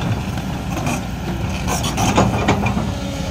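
Kobelco SK200-10 excavator working in a canal, its engine giving a steady, moderately loud diesel drone with broadband rumble and a few brief mechanical clanks over the few seconds.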